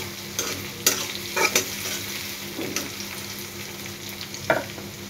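Onion, garlic and chili sizzle steadily in hot oil while a spatula scrapes the pan in several distinct, irregular strokes, close and clear with no talking.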